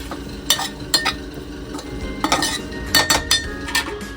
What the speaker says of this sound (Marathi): ह्याच्यावरती चाट मसाला थोडासा टाकायचा आणि ह्याला परत थोडस ढवळायचं